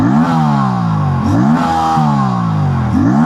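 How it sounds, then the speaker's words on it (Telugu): An Aprilia RS 457 sport motorcycle with an underbelly exhaust revs up and down three times, each blip a sharp rising snarl that settles into a steady mid-pitched engine drone, loud and close with no talking. "ఫ్రెండ్స్, ఒకసారి ఎగ్జాస్ట్ సౌండ్ వినండి."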